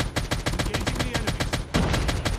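Rapid automatic gunfire in Call of Duty: Mobile battle royale, a fast burst of sharp shots in a steady stream, loud and close, with a heavier blast near the end.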